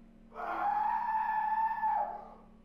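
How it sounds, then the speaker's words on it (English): A single sustained, high-pitched scream from the video game Killer7 rises abruptly, holds for nearly two seconds, then fades, heard alone over a faint low hum. "That's a scream."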